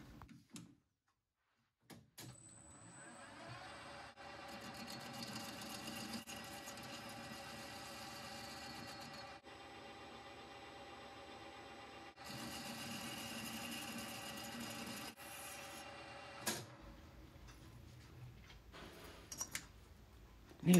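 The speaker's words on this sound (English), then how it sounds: "bore out the hole in the end cap so they're just a nice push fit" A workshop machine boring out the hole in a steel exhaust end cap for a Kawasaki Z1 Millyard Super Six: a steady, close mechanical drone with a whining tone and regular clicking, starting after a brief silence and stopping near the end.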